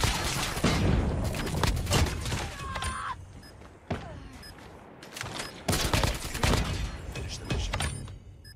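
Rapid bursts of video game gunfire in a Search and Destroy match, several volleys of loud shots with short pauses between, plus a few sharp electronic effects.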